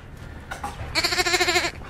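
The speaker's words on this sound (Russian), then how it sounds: "Олени и овцы" Sheep bleating played into a hijacked livestream: a loud, wavering bleat with a quick pulsing tremolo lasting under a second, preceded by a couple of short fainter calls, with no talk over it.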